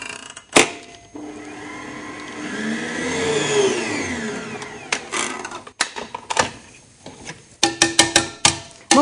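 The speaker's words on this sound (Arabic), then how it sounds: "وأشغل خلاط لثواني بسيطة فقط على أعلى سرعة لغاية ما يختلط" Electric mixer run briefly on its highest speed, blending flour into a caramel almond cake batter; a whirring motor rises and falls for a few seconds, then stops, followed by scattered clattering knocks.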